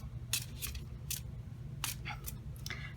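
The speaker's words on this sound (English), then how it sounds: "It shuffles really easily, but with that few cards, I tend to bend them when I shuffle them." Tarot cards shuffled by hand, a small deck, giving a series of short crisp riffling snaps spaced irregularly over a steady low background hum.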